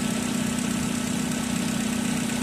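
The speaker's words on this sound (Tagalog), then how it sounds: "Nag-iiba na tunog ng makina." A Mazda Lantis 323F engine idles while still cold, giving a steady, close mechanical drone with a constant hum that keeps an even level the whole time. No one speaks.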